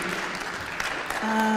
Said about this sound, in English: let's give another round of applause to Abdul Salam.